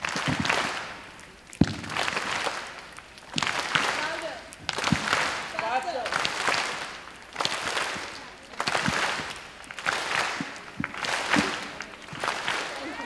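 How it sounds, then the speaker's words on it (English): A group at a library gathering in India snapping fingers and clapping together in a repeating pattern, bursts of sharp hits separated by short pauses, moderately close, with a leader's voice calling out between the rounds. "2 snaps, 2 claps, 2 snaps."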